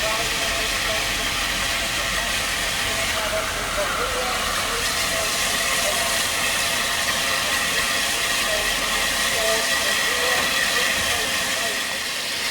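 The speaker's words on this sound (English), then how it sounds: "Streamline West Country class Pacific number 21C123 Blackmore Vale arrives at Horsted Canes with a mid-afternoon service to Kingscote." The streamlined Southern Railway West Country class Pacific steam locomotive Blackmore Vale, number 21C123, arrives at Horsted Keynes station with a passenger service. A steady, loud hiss and rumble of steam and rolling stock runs throughout at close range.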